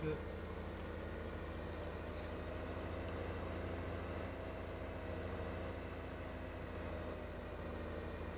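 A tractor engine idles steadily in the Farming Simulator 15 game, a low continuous rumble with even tone throughout, fairly quiet and with no talk over it.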